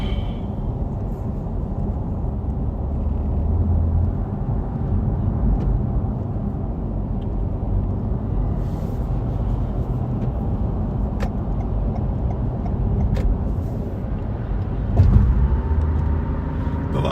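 Steady road traffic rumbles past at a moderate distance, cars passing in a continuous low wash with one slightly louder vehicle near the end; no talking.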